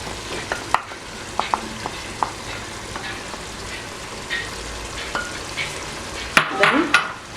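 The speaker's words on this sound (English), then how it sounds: "So you stir in the pilau, the tomato paste." Pilau being stirred in a pot with tomato paste over a high flame, a soft steady sizzle of frying with scattered scrapes and clinks of the spoon against the pot, louder stirring near the end.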